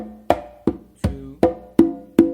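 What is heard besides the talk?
conga tumbao rhythm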